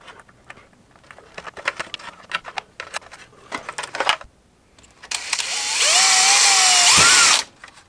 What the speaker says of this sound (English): and then drill my two holes